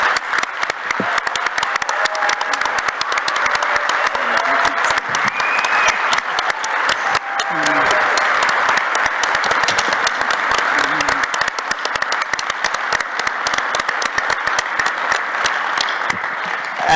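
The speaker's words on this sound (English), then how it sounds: "I want everybody to stand and just give yourselves and the Kingdom of Saudi Arabia a rousing hand applause." Sustained applause from a standing audience at a conference plenary session honoring the host nation Saudi Arabia, a dense, steady wash of many hands clapping near and loud for the full duration with occasional faint voices.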